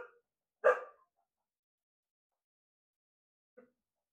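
A dog barks in two short bursts, one loud and close near the start and a fainter, brief one a few seconds later, with silence between them.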